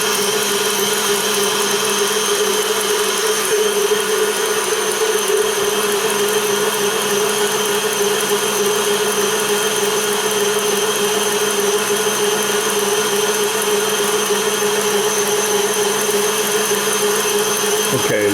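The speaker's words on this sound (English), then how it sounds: "The meringue's looking really good, so I'm going to increase the speed just for a minute" An electric mixer whips meringue at high speed for a Bûche de Noël. It gives a loud, constant motor whine with a steady tone that runs unbroken from start to finish.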